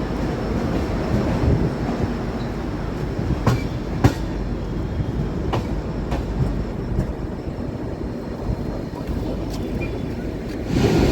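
An Indian express train pulling out of Siwan railway station, with a steady close rumble of rolling cars and occasional sharp clicks of wheels over rail joints, continuous throughout.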